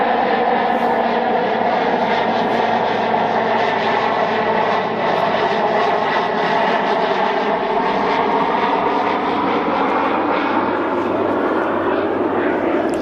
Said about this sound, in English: we got this airplane coming, start throwing me off